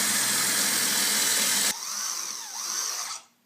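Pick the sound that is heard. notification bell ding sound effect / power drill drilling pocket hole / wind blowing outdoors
power drill drilling pocket hole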